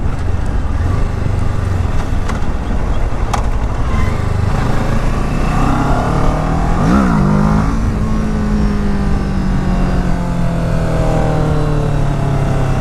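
Engine of a 2015 Kawasaki Ninja 650R motorcycle pulling through the gears on a test ride, a steady loud drone with rising pitch sweeps and a quick shift blip, wind rush behind it.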